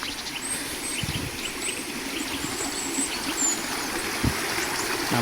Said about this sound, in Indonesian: Ternyata ini jalur air terjun.